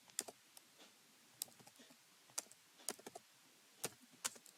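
Computer keyboard keys tapped in short irregular bursts while text is typed into an Excel spreadsheet, crisp close clicks with brief pauses between groups of keystrokes, no talking.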